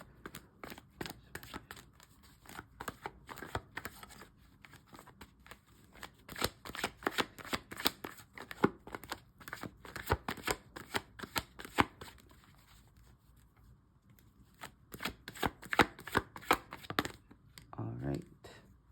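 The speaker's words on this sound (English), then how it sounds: "Let's keep shuffling." Tarot cards being shuffled by hand in repeated bursts of crisp riffling and slapping, pausing briefly midway before a final flurry, close and fairly quiet.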